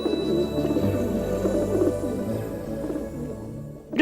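A pigeon coos in soft, repeated low calls that run steadily close by, with a brief louder sound cutting in at the very end.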